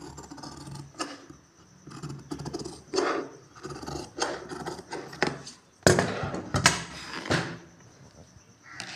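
Scissors cut through chudidar fabric with repeated rasping snips and sliding strokes, close and fairly loud, with no talk.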